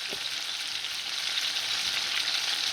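Pot roast meat searing in a pan just after being flipped, giving a loud, steady, close-up sizzle with a brief soft knock at the start and no talking.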